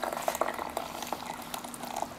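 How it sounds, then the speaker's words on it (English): Hot water is poured over a small clay teapot to warm it for gong fu tea, giving a soft, steady trickle and splash with faint clinks, quiet and close throughout. "Put some hot water over the pot."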